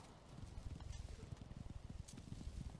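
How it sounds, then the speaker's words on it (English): Footsteps of a character walking in the video game Valheim, a steady, rhythmic series of soft thuds at moderate volume, continuing throughout. "I like the footstep sound."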